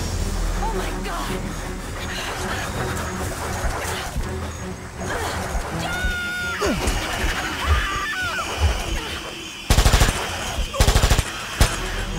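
A Tommy gun firing in the King Kong video game, rapid loud automatic bursts near the end, preceded by game noise, creature sounds and splashing water.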